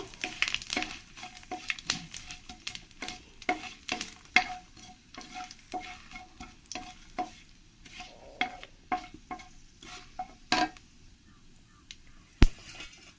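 Panch phoron spices, bay leaves and dried red chillies fry in hot oil with a soft steady sizzle, while a spoon scrapes and stirs the pan in irregular clinks and sharp taps.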